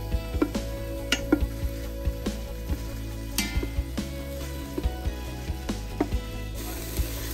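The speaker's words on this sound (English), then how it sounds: "I'm going to just start sauteing the onions and the garlic until it becomes translucent" Onions and garlic sauté in a soup pot for cabbage soup, a soft steady sizzle under repeated spoon taps and scrapes against the pot, with no one speaking.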